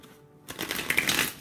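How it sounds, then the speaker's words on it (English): A deck of tarot cards is shuffled by hand in one quick, close riffle lasting about a second, after a short silence. "Please bear with me as I shuffle these cards."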